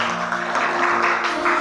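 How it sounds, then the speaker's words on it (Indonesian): Students in a classroom clapping together, a dense even patter of applause with a faint tonal hum underneath. "Tepuk tangan dulu semua yang meriah."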